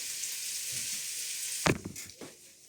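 Onion sizzling in a pot, a steady close hiss that is abruptly broken by a couple of clattering stirs or knocks before settling to a quieter sizzle.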